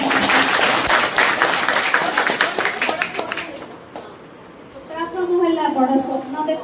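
An audience at an anti-addiction pledge campaign gathering bursts into dense, lively clapping that tapers off after a few seconds before a voice starts speaking.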